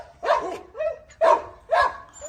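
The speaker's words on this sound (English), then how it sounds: "Oh, look at the puppies." Puppies at an animal welfare shelter give several short, high yips and barks in quick succession, with a faint whimper between them, close by and loud.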